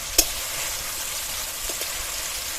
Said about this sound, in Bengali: আগে টমেটোটা হালকা করে ভেজে নেবো লাল করে